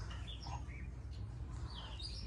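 Small birds perched in a tree call with faint, thin chirps scattered through steady low background rumble, distant and soft.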